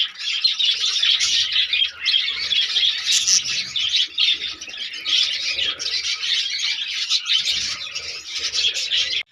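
A busy breeding colony of budgerigars chirps and chatters continuously, many overlapping high twittering calls close by with no talking.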